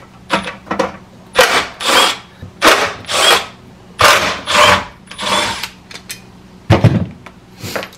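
A powered flip socket driver whirs in short repeated bursts, about a dozen loud close spins with pauses between, as it removes the bolts holding the recoil starter on a curbside leaf vacuum.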